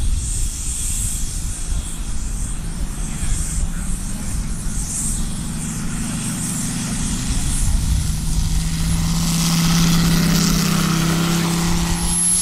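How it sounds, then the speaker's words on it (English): A Corsair and an L-39 warbird fly past at an airshow, giving a steady roaring engine drone that swells slightly near the end, with no voices over it. "Corsair and an L39 should be really good."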